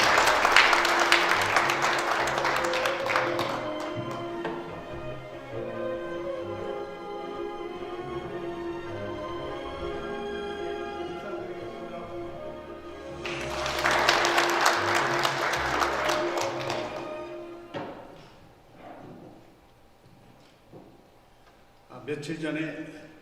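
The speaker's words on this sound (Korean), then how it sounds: "큰 박수로 환영해 주시면 감사하겠습니다." An audience at a morning business lecture forum applauds to welcome a speaker, with loud clapping at the start, a quieter stretch with an announcer talking over music, then a second strong burst of applause.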